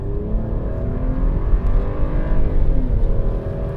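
A 2011 BMW 335i E90 with its N55 engine accelerating, a loud, close engine drone whose pitch climbs and sags smoothly through the revs, heard alone without talk.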